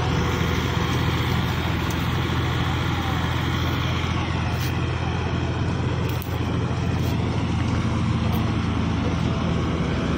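A Kubota 5501 55 HP tractor runs a thresher cleaning mustard, producing a loud, steady mechanical roar and rattle close by that continues without a break throughout.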